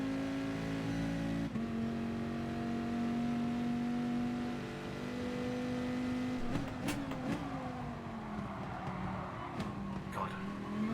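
Race cars including a Dodge Viper and a Honda NSX in Gran Turismo Sport, a steady, loud engine drone holding pitch, then shifting and wavering with brief bursts as the cars jostle, continuous throughout.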